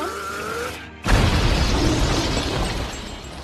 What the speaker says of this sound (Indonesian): dia pun meledak dan menghanguskan mereka semua